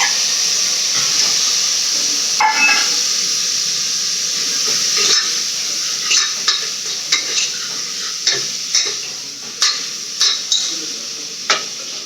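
Ingredients for a seer fish curry saute in a hot pan, a loud steady hiss of frying joined by a run of sharp spoon scrapes and taps that grow regular toward the end, close up and with no talking.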